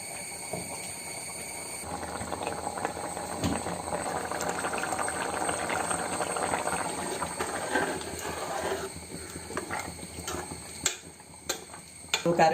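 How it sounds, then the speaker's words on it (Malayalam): Egg curry simmering in a pot, a soft continuous bubbling hiss with occasional light clinks of utensils against metal, growing sparser and more clattery toward the end. "നമ്മുടെ മുട്ടക്കറി തിളച്ച് സെറ്റപ്പായിക്കൊണ്ടിരിക്കുകയാണ്"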